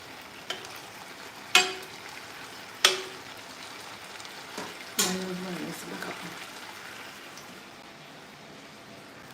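Sizzling of chicken frying in a pan with several sharp clatters of stirring, the hiss fading gradually toward the end; no talking.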